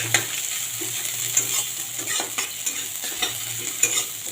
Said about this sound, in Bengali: পেঁয়াজ কুচলে পেঁয়াজটাকে আমি ভেজে নেবো